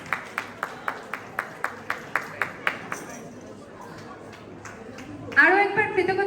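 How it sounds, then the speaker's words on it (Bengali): Audience at a Bengali New Year celebration in New York clapping in a steady, evenly spaced rhythm for about three seconds, then fading into crowd murmur and a speaking voice over a busier burst of noise. "প্লিজ জোরে একটা হাততালি করুন।"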